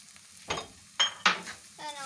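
Sugar goes into a pan of dry fruits halwa made with khoya, and a spoon stirs it. Three short, sharp scraping clinks sound against a faint, quiet sizzle, with no talk.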